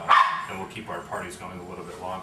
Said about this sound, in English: pardon the dogs barking in the background